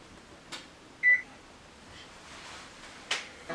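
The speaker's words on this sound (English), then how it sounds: "We're going to set a 30-minute timer." A kitchen oven timer gives a single short electronic beep as it is set for a batch of homemade cinnamon rolls, with faint clicks and a quiet room around it.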